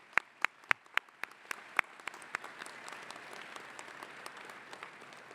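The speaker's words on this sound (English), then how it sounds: "Let's give them a huge round of applause." At a university graduate commencement, a handful of loud, sharp claps at a steady beat open the clip, then fade into a thinner, softer patter of scattered applause from the crowd.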